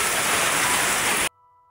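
Heavy typhoon rain from Kristine pours steadily as loud, dense hiss for over a second, then cuts off abruptly into near silence.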